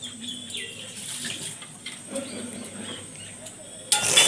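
Water runs from a tap and splashes while eggs are washed at a sink, a steady soft close stream with faint birdsong in the background and a louder splash at the end.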